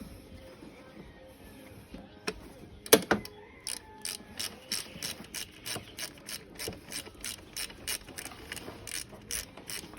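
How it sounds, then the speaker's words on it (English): A flex-head ratchet on a 12mm deep socket, loosening a bolt during alternator replacement on a Volvo S60, clicks in a quick, regular run of close, crisp pawl ticks after some handling noise. "I'm going to use a 12mm deep socket with a flex head ratchet"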